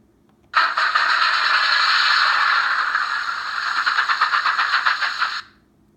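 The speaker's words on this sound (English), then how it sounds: "F12 is wheel slip. It's really loud" Wheel slip effect from a Hornby King George V R3330 model steam locomotive: a loud, harsh, sustained hissing scrape with rapid rattling chuffs, starting abruptly and running about five seconds before cutting off.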